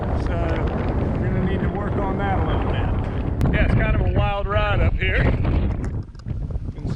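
Strong wind buffets a microphone high on a sailboat mast at anchor off St Anne, Martinique, a loud continuous roar with rigging knocks, while a person talks over it throughout.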